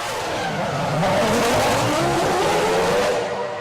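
Formula 1 cars from the 2005 season race past, loud engine whine rising and sweeping in pitch with a broad roaring rush, continuous and close.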